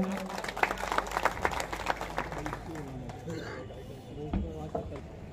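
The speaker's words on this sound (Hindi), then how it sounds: "एक बार जोरदार ताली से आप लोग सम्मान करें" Dense audience clapping at a live folk music stage performance, fading out as a voice takes over and talks over the dwindling claps.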